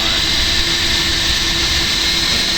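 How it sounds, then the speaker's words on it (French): A loud, steady roar from the engines of an A319 airliner in Flight Simulator 2024, a dense unbroken drone with no pauses that fills the whole stretch. "il y a un gros bruit de moteur"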